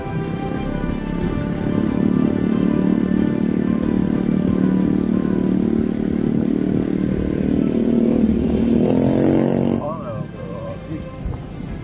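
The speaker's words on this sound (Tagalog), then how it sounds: "ano kayang klaseng motorsiklo ito? Ang bilis tumakbo." Fast motorcycle with a flasher speeding through late-afternoon traffic in Dumaguete, its engine droning loud and close for several seconds before a rising whine as it passes, then fading into street noise with people talking.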